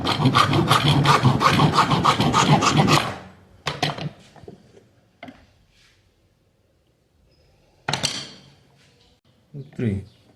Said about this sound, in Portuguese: o serrote corta nos dois sentidos sem problema